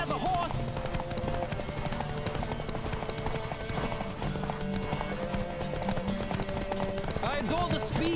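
A horse gallops in The Witcher 3: Wild Hunt, its steady clip-clopping hooves running continuously under game music, with a brief whinny near the start and end.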